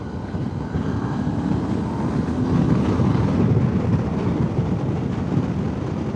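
Wind rushes steadily past a motorcycle riding at close to 100 km/h on a country road, a loud, continuous broadband roar buffeting the microphone throughout, with no talking.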